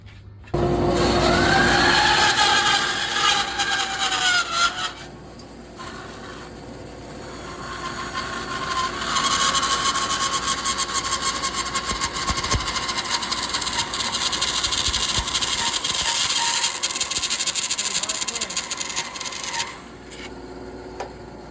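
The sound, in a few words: dust collector running in a woodworking shop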